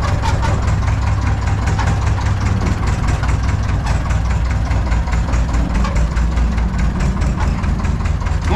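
A Zetor 5211 tractor engine idles steadily and loudly close by, a continuous low diesel rumble with a fine knocking rhythm and no pauses.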